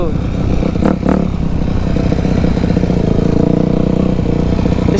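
A dirt bike engine runs in a backyard, its loud, close mid-range drone holding steady with a brief rise near the start and faint clatter mixed in.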